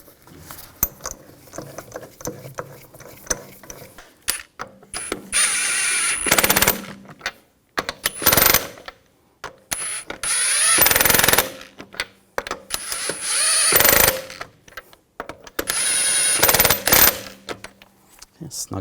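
An impact wrench runs the wheel lug bolts on a 2000-2006 BMW X5 in a garage, firing in loud rattling bursts of a second or two separated by short quiet gaps.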